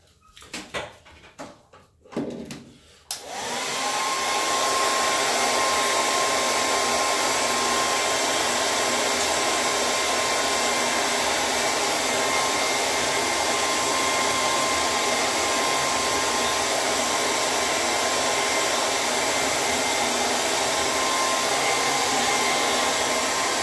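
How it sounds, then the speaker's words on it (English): Handheld hair dryer blow-drying a ten-month beard during a trim, roaring loud and steady for about twenty seconds after a few brief knocks and rustles at the start. "So let me get my blow dry on the side."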